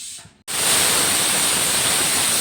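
Chickpeas (chole) cooking on the stove give off a sudden, loud, steady hiss of steam after a brief quieter moment, constant and close.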